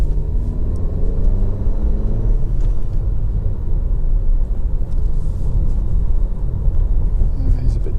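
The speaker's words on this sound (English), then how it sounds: "This section of road is horrible. It's got a really clunky road surface" A Honda CR-V 1.5 VTEC Turbo EX 4WD rolls over a rough, clunky road surface, giving a steady low tyre and road rumble with engine drone throughout, heard from inside the cabin.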